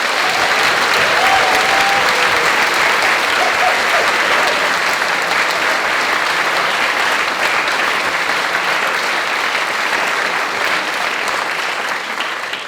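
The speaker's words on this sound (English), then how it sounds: "So can we give John a huge round of applause?" Sustained audience applause fills an election hustings hall, a dense, steady wash of many hands clapping at close range that holds its level for the whole stretch with only a slight fade at the end.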